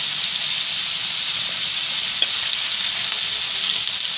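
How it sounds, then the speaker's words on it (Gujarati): Potatoes fry in hot oil, giving a steady, bright sizzle and hiss close by with faint stirring, and no voices. "તો બટેટાને આપણે તેલમાં સરસથી શેડવી લેવાના છે, એકદમ સડી જાય ને તા લાગે."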